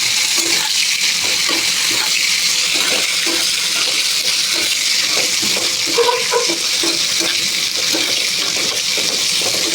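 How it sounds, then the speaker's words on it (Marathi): Green chillies fry in a couple of spoonfuls of oil in a pan for thecha, giving a steady, continuous sizzle with faint stirring scrapes throughout, close and without talk. "तर तेलात 1-2 मिनटं चांगले भाजू द्यायचे"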